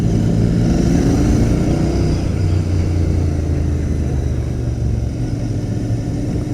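A Royal Enfield Continental GT 650 motorcycle rides on a cold December night, its engine a loud, steady low drone with wind rush and slight shifts in pitch as it holds speed, no speech.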